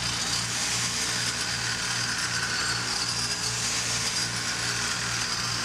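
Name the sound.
power drill boring hole in NMAX scooter part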